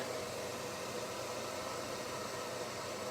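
A hair dryer blows a steady, even whoosh of airflow at moderate level during a wood wreath craft session, with no change in pitch or strength and no talking.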